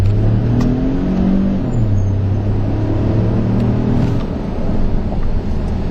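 A 2011 Ford F-150 Lariat EcoBoost accelerates hard from inside the cab, its engine note climbing steadily and loudly as it pulls up through the gears, with no talking.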